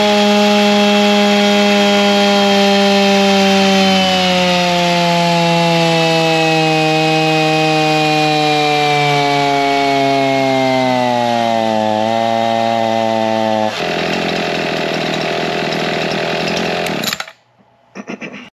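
A stock Echo 4910 50cc chainsaw with stock muffler and air filter, running on a dyno: a loud, sustained high engine whine whose pitch slowly drops under load, then a rougher roar before it cuts off abruptly.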